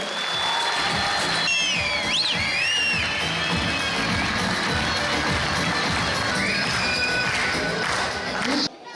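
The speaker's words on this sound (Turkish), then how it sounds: "onu bir alkışlayalım hep birlikte" Crowd applause and cheering at an AK Party campaign rally for a parliamentary candidate, loud and sustained throughout, with shouts and whistles rising above the clapping.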